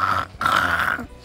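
A voice imitating a pig, a short, loud, strained squeal-like growl held for about a second, alone and close.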